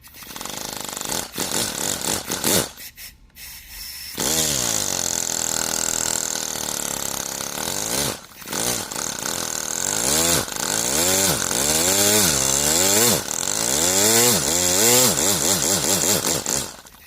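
A turbocharged, 3D-printed single-cylinder air engine revs and sputters, its whining pitch rising and falling repeatedly, loud and buzzy like a two-stroke, with a brief hiss and cutout early on.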